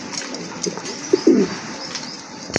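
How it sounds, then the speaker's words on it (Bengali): Pigeons kept in a market sale pen coo softly, a couple of short low throaty calls close by amid faint background bustle. "এখানে কিন্তু আরেক জোড়া কবুতর আছে, এটা কিন্তু হাই কোয়ালিটি সম্পন্ন কবুতর"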